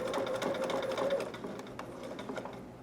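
A sewing machine stitches a seam on a fabric hood, a steady close mechanical whir with fast even needle clatter, slowing slightly toward the end.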